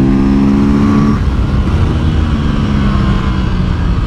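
A motorcycle engine holds wide open on a road ride, a loud, steady drone with wind rush and no talk.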